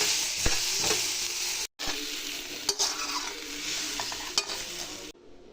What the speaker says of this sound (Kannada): ಸ್ವಲ್ಪ ಚೆನ್ನಾಗಿ ಸ್ವಲ್ಪ ರೋಸ್ಟ್ ಆಗೋ ಥರ ಫ್ರೈ ಮಾಡ್ಕೋಬೇಕು